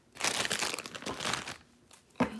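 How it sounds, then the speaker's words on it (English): Tarot cards handled and set down, a near papery crinkling and rustling in two broad bursts, then a sharp tap as a card lands on a surface. "Put these cards over here, actually."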